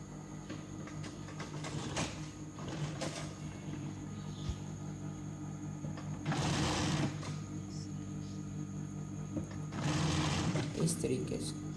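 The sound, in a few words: sewing machine stitching rickshaw hood edge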